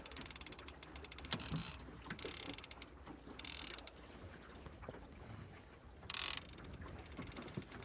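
Fishing reel clicking steadily as line spools out while trolling from a boat at about two miles an hour on Pishkun Reservoir, Montana; faint ratcheting with a few brighter bursts over a low background hum.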